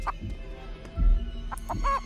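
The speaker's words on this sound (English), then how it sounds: "Go away, chicken." Clucking chicken in the game Chicken Feet, a few short squawky bursts spread over two seconds, moderately close with a low rumble underneath.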